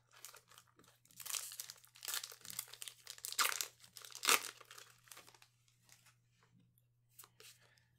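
Pokemon card booster packs are ripped open and their foil wrappers crinkle and tear in loud, close bursts, then fade to a few quieter rustles near the end over a low steady hum.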